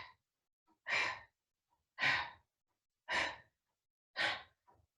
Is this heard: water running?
no